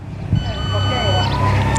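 Groundwater measuring equipment sounds a steady high-pitched warning beep lasting about a second, close and clear over talking and low background noise.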